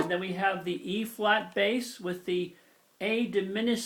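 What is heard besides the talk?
No everyday noise stands out behind the speech.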